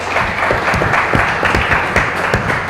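Audience applause at a live event in Lubumbashi: dense, steady clapping from a crowd, loud and close, running throughout without a break.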